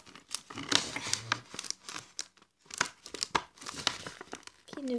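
Sharp ripping and crinkling bursts of adhesive tape being pulled off Pokémon booster packs, coming in short irregular tears with brief pauses between.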